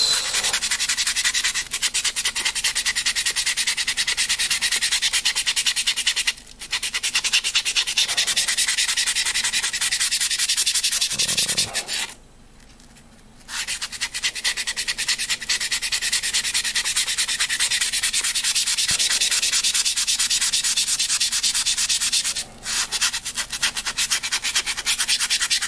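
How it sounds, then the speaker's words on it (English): A Tamiya 400 grit sanding sponge rubbed over a 1:8 scale figure, close and continuous rasping strokes with two brief pauses, no voices. "this is a Tamiya 400 grit sanding sponge, and I am going to go over this."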